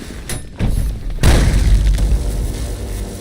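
A rail cannon fires in the ULTRAKILL video game, one loud, heavy boom that lands about a third of the way in and rumbles on over a busy backdrop of game noise.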